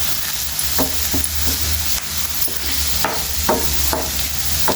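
Egg frying in a pan with onions and a pinch of turmeric, a steady loud sizzle punctuated by repeated scraping stirs of a spatula, no voices.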